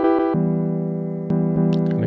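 A grand piano patch, either a Numa Studio Logic or the Ableton grand piano, plays a dry motif with no effects: sustained chords changing near the start and again around the middle, with a few brighter high notes near the end, alone.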